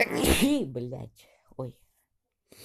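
A loud sneeze bursts out near the start, followed by a man's short spoken exclamations and then quiet.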